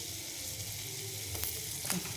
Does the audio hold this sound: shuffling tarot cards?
no